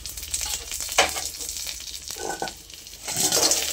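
Pakoras sizzle and crackle steadily in hot oil for a vegetable chilli chicken dish, a close, continuous frying hiss with bubbling bursts that swell louder near the end.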